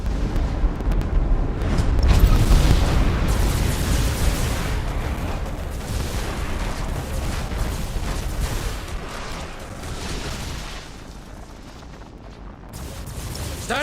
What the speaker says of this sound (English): Tell them to detonate the mines. That explosion should clean our tails of these traitors.